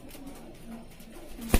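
Rampuri pigeons coo softly in a series of low, repeated calls, ending with a sudden loud thump or flutter close by.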